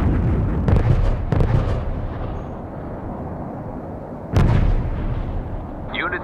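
Heavy artillery fires in the World in Conflict strategy game, several deep booming blasts around the start and a strong close report near the middle, over a constant low battlefield rumble.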